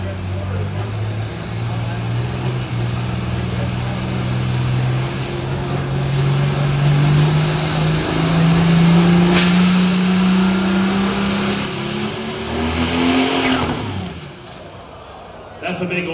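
A pulling tractor at a tractor pull roars down the track with a loud, sustained engine drone that climbs in pitch, then drops away near the end; an announcer talks over it.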